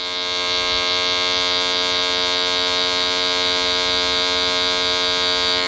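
Electric hair clippers with the lever partly closed buzz steadily and loudly while cutting a barbershop pompadour, a constant close-up drone with no pauses.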